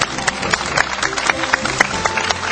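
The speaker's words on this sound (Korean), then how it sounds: "여러분 큰 박수 다시 한번 부탁드리겠습니다" A studio audience at a 2005 MBC-EBS joint live education special claps for four panelists, a dense, steady wash of many hands with sharper individual claps poking through and faint voices underneath.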